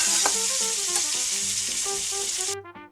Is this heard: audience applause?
no